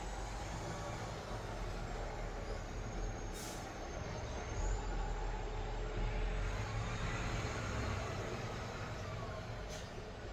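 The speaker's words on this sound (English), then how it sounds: "there's a large truck passing by" A large truck passes by outdoors, a loud continuous roar of engine and tires that swells in the middle and slowly eases, with a couple of brief hissing bursts like air brakes.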